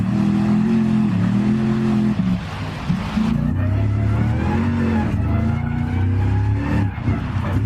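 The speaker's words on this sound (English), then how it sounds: "that whine you guys are hearing, it's not the supercharger. It's the straight cut gears from the transmission" A car in Gran Turismo Sport races with a high whine from straight-cut transmission gears riding over the engine note, shifting pitch through gear changes, loud and steady with some tire scrubbing.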